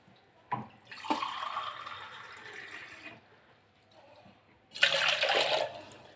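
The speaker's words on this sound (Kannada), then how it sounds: "2 ಲೋಟ ನೀರು ಹಾಕ್ಕೊಳ್ತೇನೆ." Water is poured twice into drinking glasses, each a short splashing rush with a quiet gap between, close by and without talk.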